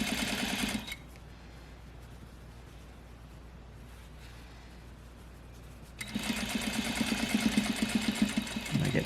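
A sewing machine stitches a single welt pocket, running loud and steady for a moment, then falling quiet for several seconds, then starting up again at full speed.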